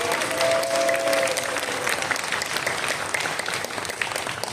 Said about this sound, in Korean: 감사, 격려의 축하의 박수로 부탁드립니다